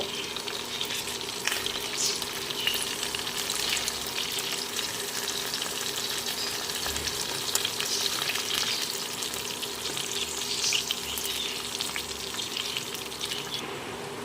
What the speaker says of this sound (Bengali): আবারও ঢাকা দিয়ে মাছগুলো ভেজে নেব